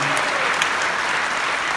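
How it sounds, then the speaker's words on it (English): Dense audience applause honoring educators at a concert premiere, a steady wash of many hands clapping at full volume throughout. "a little applause for the educators"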